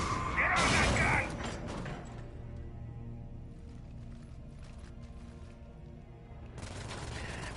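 Mounted turret gunfire in the Mass Effect 3 video game, a loud dense burst of rapid shots in the first second, then a lower mechanical rumble and clatter with more firing returning near the end.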